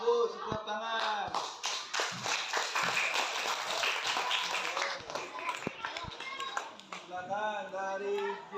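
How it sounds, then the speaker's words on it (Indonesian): Schoolchildren in a classroom clap their hands together in a scattered, lively patter that runs throughout, with voices talking and calling out over the clapping. "Ya, bagus, tepuk tangan."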